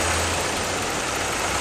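Car engine idling with a cylinder misfire, cylinder number 2 dropping out; steady, loud, close running with a low rumble and no talk over it.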